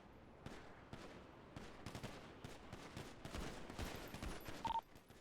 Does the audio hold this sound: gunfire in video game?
yes